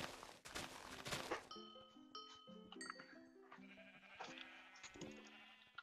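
Sheep in a Minecraft game bleat in a quick run of overlapping cries, clear and fairly close, mixed with other game sound effects.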